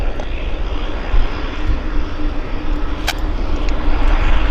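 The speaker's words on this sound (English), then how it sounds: "Very rapid slowdown there on the WestJet." WestJet airliner landing at Vancouver Airport and braking hard, a loud steady roar of jet engines and rushing air with a brief swell, heard from a distance with no talk.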